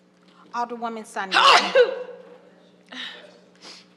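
A single sneeze bursts out during a committee roll call in a council chamber, loud and brief between several voices calling names and answering.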